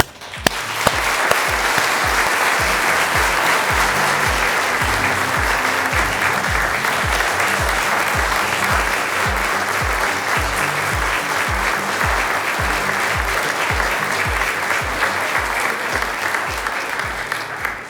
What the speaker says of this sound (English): join me in offering a round of applause